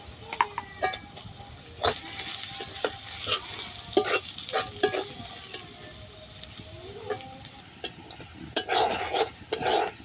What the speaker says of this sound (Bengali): পেঁয়াজগুলো ভালোভাবে বেজে গেছে